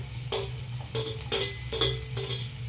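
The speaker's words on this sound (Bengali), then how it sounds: "এবার মটরশুঁটিটা দেওয়ার পর আমি আর একবার ভালো করে সবজিগুলো সব ভেজে নেব" Vegetables with peas being stirred and fried in a pan for veg dal, with repeated scraping stir strokes over a steady close sizzle, no talk.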